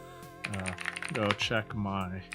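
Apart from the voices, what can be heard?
typing on a mechanical keyboard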